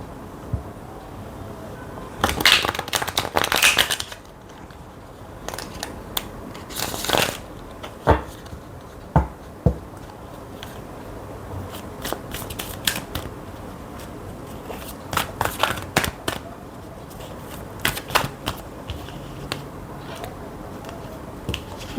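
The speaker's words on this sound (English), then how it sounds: "let's move on to the tarot cards" Tarot cards shuffled close by in repeated riffling bursts and soft slaps, irregular clusters of crisp card noise over a faint room background.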